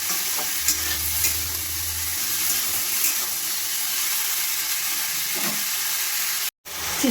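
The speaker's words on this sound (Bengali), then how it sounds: "এবার আমি ভালোভাবে লাল করে আগে ভেজে নেব পেঁয়াজের সঙ্গে।" Ridge gourd, potato and tomato fry with onion in a pan, giving a steady soft sizzle with occasional stirring scrapes, close and alone without talk, broken by a brief silent gap near the end.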